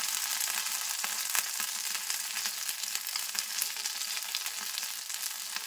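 Potol (pointed gourd) pieces crisping in an open frying pan after being turned, with a continuous, close, bright sizzle and scattered pops that hold at an even level throughout.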